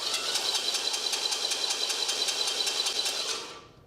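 Engine starter motor spinning with an unshimmed pinion grinding against the flywheel, a steady harsh whirring rattle with rapid regular clatter that runs for about three seconds and then winds down.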